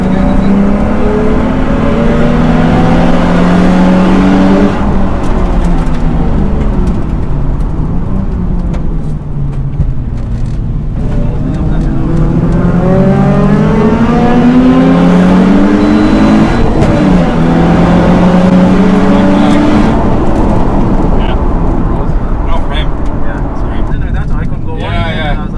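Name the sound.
track day car driving laps at Mondello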